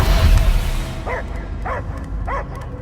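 A dog barks in the Guardians of the Galaxy video game: three distinct, fairly loud barks spaced about half a second apart, following a low rumbling swell.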